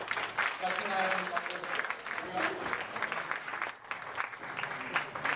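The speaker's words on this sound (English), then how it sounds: "A round of applause for Lakshminarayan." An audience at the Hyderabad Runners' annual awards evening claps loudly and steadily for an award recipient, a dense continuous applause with a voice speaking over it.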